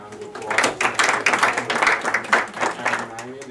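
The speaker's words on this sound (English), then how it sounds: "If you could give a round of applause." A small board of education meeting audience claps for a newly named president, a loose, uneven patter of hands at close range lasting a few seconds, with some voices mixed in.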